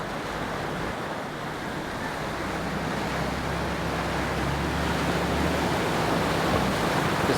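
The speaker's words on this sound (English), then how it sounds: "we're down on the creek/river" Steady broadband rush of the Turon River creek flowing, a continuous watery wash that swells slightly louder toward the end, with no voices over it.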